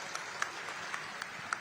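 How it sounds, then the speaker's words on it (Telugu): Audience applause at an event honouring new women police constables, soft and sustained clapping at a distance with a few sharper claps standing out, without voices. "అందరూ కూడా గట్టిగా చప్పట్లు కొట్టి ఆశీర్వదించండి"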